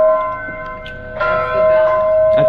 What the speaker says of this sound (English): That bell rings every morning at 4:30